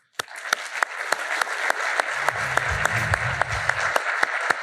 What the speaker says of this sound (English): Let's have one more round of applause for our panelists.